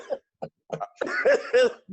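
A handful of short coughs, sparse at first, then bunching into a throaty burst that slides into a laugh-like wheeze.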